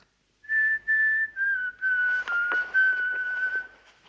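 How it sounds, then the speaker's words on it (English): A man whistles the William Tell Overture alone, a clear bright tune in short phrases of sustained notes that glide and wobble slightly, close and moderately loud. "what is that you're whistling?"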